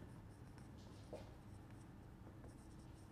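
Pen writing notes on paper, a faint steady scratching with small strokes over a low background hum, no voices.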